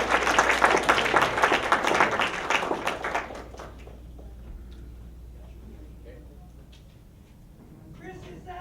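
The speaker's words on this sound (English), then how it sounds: "Let's give Chris another round of applause" Dense audience applause fills a lecture hall for about three seconds, then tapers off into quieter room noise with scattered claps and shuffling.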